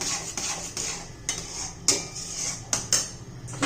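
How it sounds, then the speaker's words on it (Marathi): Spoon scraping and clinking against a pan while beetroot halwa with ghee is stirred, giving repeated close metallic scrapes and taps in an irregular rhythm over a soft background hiss. "हे एक सारखं हलवत राहायचंय"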